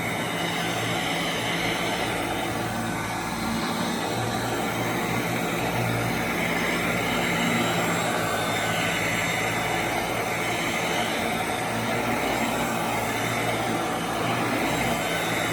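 A 1991 Royal Model 882T vacuum cleaner runs steadily on the floor with strong suction, giving a loud, constant whooshing motor drone that goes on without a break.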